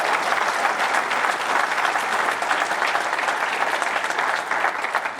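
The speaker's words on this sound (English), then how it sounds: "Let's give them some applause" Applause for the hosts at an awards gala in a large room, a dense, steady wash of many hands clapping throughout, with no voices standing out.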